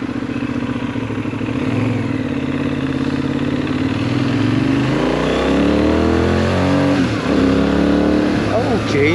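Benelli 752S naked sports motorcycle on a demo-day test ride, its engine droning steadily and rising in pitch as it accelerates, with wind noise and a rider speaking over it.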